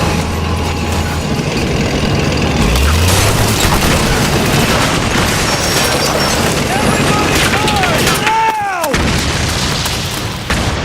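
Heavy suppressing gunfire and booming explosions from the 2008 PS3 game Metal Gear Solid 4: Guns of the Patriots roar in a loud, constant battle barrage with shouting voices over it and a swooping mechanical whine near the end.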